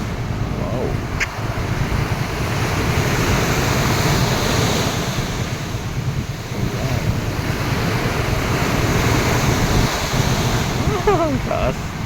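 Ocean waves surging at the seaside, a steady loud roar of surf mixed with heavy wind buffeting the microphone, continuous throughout with brief faint voices.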